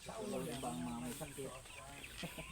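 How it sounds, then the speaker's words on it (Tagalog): Chickens on a farm in Magsaysay, Davao del Sur, cluck in short, close, repeated calls, with people talking softly at the same time. "Ang daming manok."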